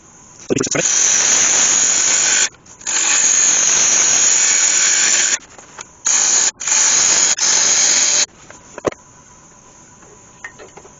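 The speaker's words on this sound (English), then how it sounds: "Just go and cut in there with a skew" A sharp skew chisel cuts into an ash wood bowl spinning on a lathe, giving loud bursts of hissing, scraping noise separated by brief pauses, then a near-silent stretch at the end.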